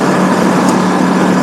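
A 2007 Suzuki S40 Boulevard motorcycle idles low, its single-cylinder engine giving a steady, close, loud rumble with an even low hum and no break.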